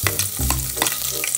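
Garlic fries in hot oil with a loud, close, steady sizzle and crackle, mixed with stirring.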